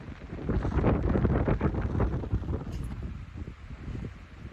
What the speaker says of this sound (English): Listen to the wind.